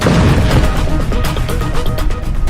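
Artillery cannon fire during the Gaza war comes as loud, dense booms and crackling bursts, with several sharp impacts in quick succession.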